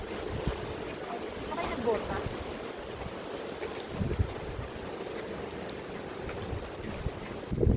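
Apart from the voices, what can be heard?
strong wind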